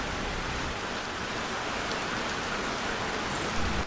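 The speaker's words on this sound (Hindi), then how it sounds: "अब बारिश भी काफ़ी तेज़ हो रही है" Heavy rain pours steadily and loudly, a dense even hiss with a low rumble beneath that holds constant throughout, with no voices.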